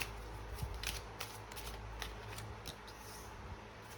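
Tarot cards shuffled by hand during a reading: soft, continuous close riffling and flicking of cards, quiet, with a few sharper slaps as cards are handled.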